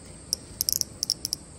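A captured large brown cicada (aburazemi) gives a quick series of short, thin, raspy chirps, close and fairly faint against low background hiss.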